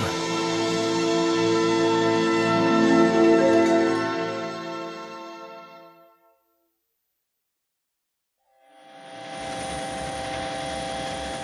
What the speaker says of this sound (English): Our news chopper is circling the impact crater on the edge of town